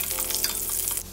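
Garlic sizzling in three tablespoons of hot oil in a pan, a steady close crackling hiss with brief stirring, alone and unbroken for about a second.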